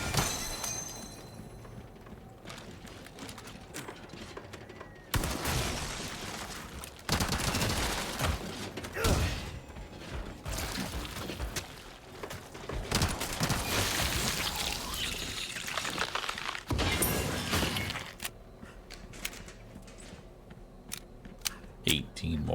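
Gunfire in Resident Evil 4 Biorand, the remake of the horror game, comes as dense bursts of repeated shots with loud clusters and short gaps between them, mixed with game effects throughout.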